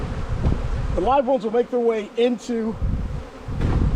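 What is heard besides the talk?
honeybees buzzing around a new hive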